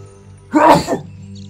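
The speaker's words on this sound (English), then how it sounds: "I tried to sneeze away from the mic there so it wasn't too loud" A single short sneeze bursts out over a quiet background hum, close but slightly muffled.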